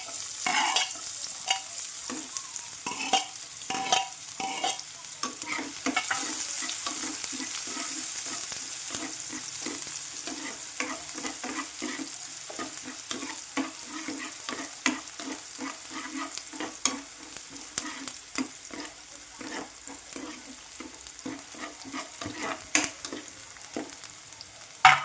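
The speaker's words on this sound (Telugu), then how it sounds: "ఇవైతే మంచిగా ఫ్రై అవుతున్నాయి కదా" Chopped vegetables and onions fry in a pan for veg Maggi, giving a steady close sizzle with a rapid run of scraping stirs against the pan, with no voices.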